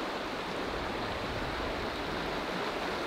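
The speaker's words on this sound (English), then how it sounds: "I'm trying to cross this little river." A small river stream in the Alps flows with a steady, soft rushing wash of water, continuous and fairly quiet, with no voices over it.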